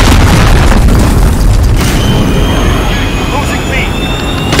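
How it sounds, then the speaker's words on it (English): A cruise missile strike booms in a Call of Duty Modern Warfare match, opening with a loud, heavy blast and roar that rumbles on, then fades into a sustained jet-like whine with high tonal streaks. "Enemy cruise missile."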